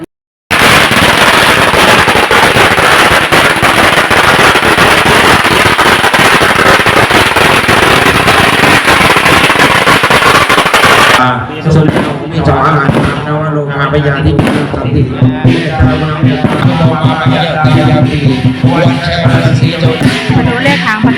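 A long, loud, dense barrage of firecrackers crackles continuously at a Thai ritual offering ceremony, then stops abruptly, giving way to quieter background sound and voices.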